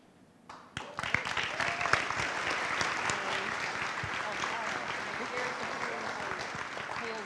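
Crowd applauding after an award presentation at a military garrison ceremony at JBLM, rising quickly into sustained clapping for several seconds, with a voice briefly over it.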